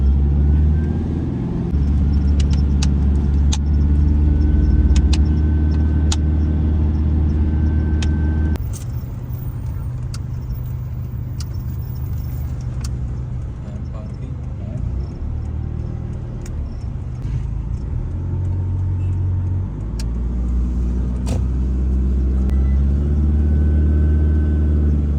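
A car drives through light traffic in Riyadh, its engine a steady loud low rumble with shifting drone, road noise and occasional clicks throughout.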